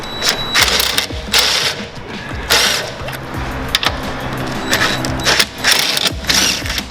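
Socket wrench driving screws during a BMR lowering spring install on a 2017 Camaro SS 1LE, giving loud, close, rapid ratcheting clicks in repeated bursts with brief pauses between them.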